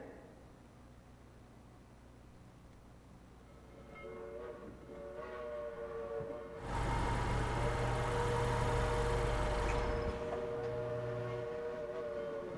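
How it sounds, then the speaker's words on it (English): A train rumbles past with a loud, broad roar building in from a quieter approach, steady tones of wheels and engine sustained for several seconds. "to let a train pass by"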